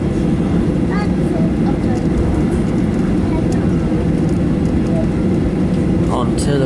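A passenger airplane taxis onto the runway, its steady engine rumble continuous and close throughout, with faint higher whines and a background voice now and then.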